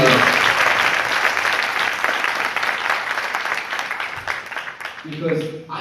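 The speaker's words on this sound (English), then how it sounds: "give him a big round of applause" An awards-night audience breaks into applause, dense and loud at the start, then gradually thinning into lighter clapping before a voice returns near the end.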